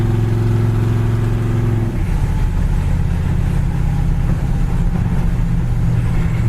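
A black 1958 Ford F100 pickup truck accelerating along a road, its engine drone loud and close with a low, steady rumble that shifts in pitch partway through as the truck gathers speed.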